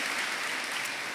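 Steady, dense applause from a church congregation fills the whole moment, broad and even with no voices rising above it.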